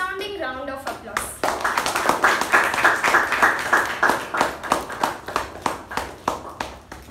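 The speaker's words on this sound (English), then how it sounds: "please help me acclaim and welcome our President, Toastmaster Balaji, with a resounding round of applause" A small crowd at a Toastmasters club meeting claps to welcome the club president, a brief voice at the start followed by rhythmic, fairly close clapping that runs steadily to the end.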